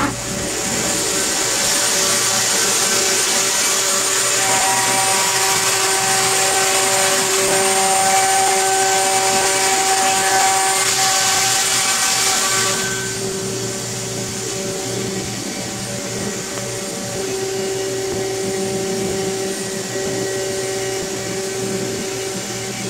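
Loud, continuous whine of a CNC router cutting wood side panels for an enclosure, with shifting tones, easing to a lower steady drone partway through.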